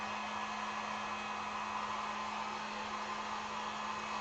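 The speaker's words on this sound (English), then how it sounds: "And then I'm gonna come back, you guys, with the heat gun real quick." A heat gun runs over a wooden sign drying acrylic paint, giving a steady, loud blowing hiss with a constant motor hum that stays even throughout.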